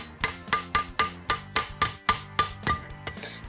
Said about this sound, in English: just give it a tap like that